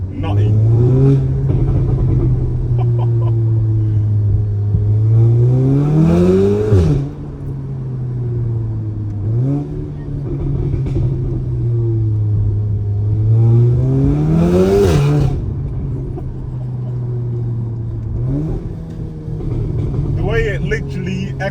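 Straight-piped Audi S3 exhaust revving hard on a city street, loud repeated rising revs that peak and fall back to a droning idle, with engine echo and voices talking over it.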